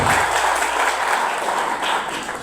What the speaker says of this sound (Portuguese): Obrigado, mais uma vez, uma salva de palmas